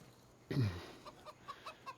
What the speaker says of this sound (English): Our chickens need some feed.